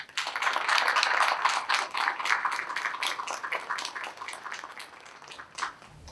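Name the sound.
audience applause for inductees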